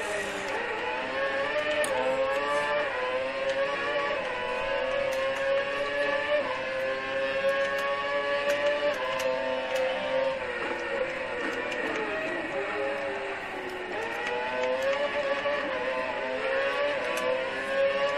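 F1 car engine in the F1 2012 game on the Chinese Grand Prix circuit, a high whining tone that rises and falls with gear changes and braking into a hairpin, continuous and prominent.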